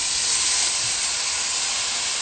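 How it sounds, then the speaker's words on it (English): Liquid hits a hot pan while cooking SPAM pastor tacos, giving a loud, steady, close sizzling hiss with fine splattering that holds without a break and has no talking over it. "So I anticipated that there's gonna be that splattering. You can hear the sizzle."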